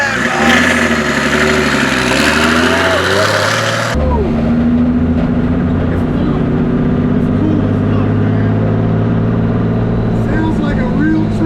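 A turbo diesel hotrod engine idles steadily in the foreground, a deep continuous rumble with low harmonics, while people talk nearby over it.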